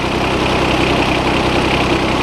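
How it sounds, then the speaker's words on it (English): A John Deere 455 lawn tractor engine idles after starting, a steady, loud, even mechanical drone with constant vibration and no change in throttle. "the engine runs really nice, starts right up, and you heard it start up"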